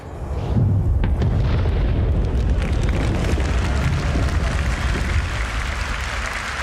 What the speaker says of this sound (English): Finally, the really cool stuff, explosions.